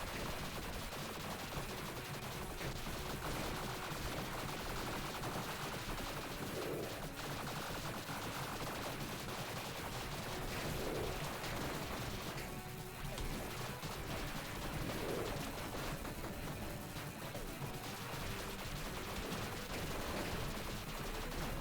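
Missiles firing in the video game Tiny Rogues make dense, rapid gunfire-like bursts and crashes, continuous and loud throughout, with no speech.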